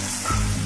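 Onion and tomato sizzle steadily in a hot frying pan at an outdoor New Year picnic, a close, continuous hiss with no voices.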